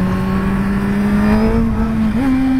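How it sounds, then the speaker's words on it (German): Race-track motorcycle exhaust running at a steady, loud drone close by, with a brief rise in pitch near the end as the engine is revved, heard alone without talk. "Auspuff."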